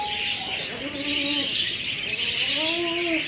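Yellow parrots chirp and whistle in short rising and falling calls over a steady background hiss, several birds calling close by.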